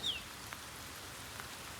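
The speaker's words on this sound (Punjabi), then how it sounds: "ਪਰ ਫਿਲਹਾਲ ਪੈ ਰਿਹਾ ਮੀਂਹ" Rain falls steadily at a farm well as a soft, even hiss, with a single faint high chirp at the very start.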